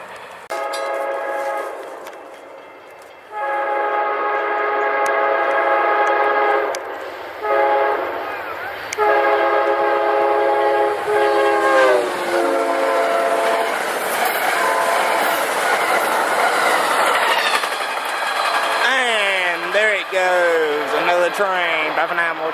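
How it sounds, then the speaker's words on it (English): Amtrak train pulled by a CSX locomotive and two Amtrak locomotives roars past up close, sounding long horn blasts with a loud rumble and clatter of cars; a voice talks over parts of it. "an Amtrak pulled by a CXX locomotive and two Amtrak locomotives"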